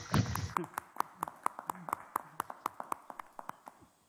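Meeting participants at a county commission session clapping in a slow, regular rhythm, a steady beat of about two claps per second, sparse and fairly quiet, trailing off, with a brief voice at the start.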